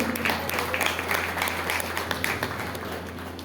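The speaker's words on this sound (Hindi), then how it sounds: "भ्राता जी हमारे बीच बैठे हैं, हम तालियों से उनका स्वागत करेंगे" An audience claps to welcome a guest at a Brahma Kumaris talk, sustained applause over a low steady hum, fairly close and even throughout.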